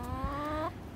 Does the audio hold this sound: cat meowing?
no